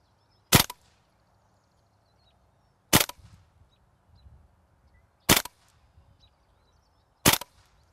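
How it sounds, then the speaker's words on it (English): A WE ModK 16 blowback airsoft rifle fires four separate semi-auto shots, each a sharp, loud crack with a short mechanical clack, evenly spaced about two seconds apart with quiet gaps between. "let's test out the accuracy, and we're going to see what it is on semi-auto first, and Barry should be good to go"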